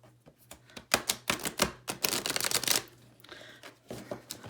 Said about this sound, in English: But I am a riffle shuffler.